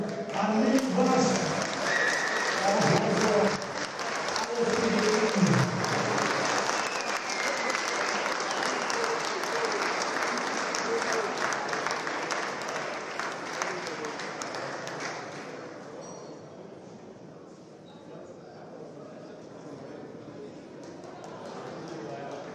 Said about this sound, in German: Aber auch nochmal dieser Applaus an die rote Ecke, an Link Wasch